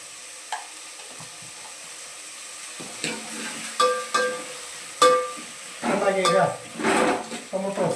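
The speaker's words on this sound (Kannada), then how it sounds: "ಎಷ್ಟಿಗೆ ತಿರುಗಿಸ್ತಾ ಇರಿ ಈಗ ಟೊಮೊಟೊ ಚೆನ್ನಾಗಿ ಸ್ಮ್ಯಾಶ್ ಆಗಿದೆ" A pan of tomatoes fries while a spoon stirs them in repeated scraping, squelching strokes, loudest near the end, over a steady close sizzle.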